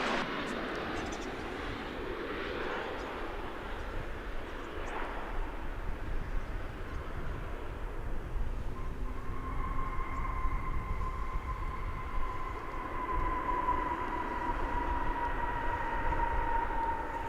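Airliner at DFW Airport roaring steadily at a distance, a broad engine rumble that builds and holds with a sustained whining tone emerging partway through.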